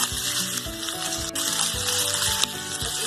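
Onions dropped into a hot pan with oil for a chicken stuffed bun filling, sizzling and crackling steadily at close range with a few stirring scrapes, no talking.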